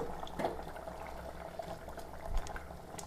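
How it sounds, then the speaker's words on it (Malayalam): Fish curry simmers in a pot with a soft, continuous bubbling and faint pops, low and close. "ഇപ്പം തിളച്ചിട്ട് ഒരു പത്ത് മിനിറ്റ് കഴിഞ്ഞു"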